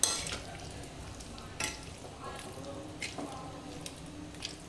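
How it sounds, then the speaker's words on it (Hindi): Potatoes being stirred into a simmering tomato-onion gravy in a pan, with a steady soft sizzle and several scraping stirs of the spoon spread across the whole stretch, close and moderately quiet. "अब डाल दिए हैं आलू। इनको अच्छे से ग्रेवी के अंदर मिक्स कर लेते हैं।"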